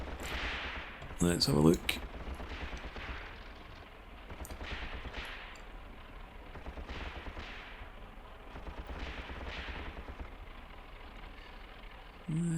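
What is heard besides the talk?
gunfire in Tank Warfare: Tunisia 1943 video game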